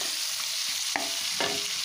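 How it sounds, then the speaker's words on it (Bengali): Finely sliced onions fry quietly in a pan with a soft, continuous sizzle, broken by two sharp scrapes of a spoon stirring them. "এই পেঁয়াজগুলো ততক্ষণ ভাজা হতে থাকুক।"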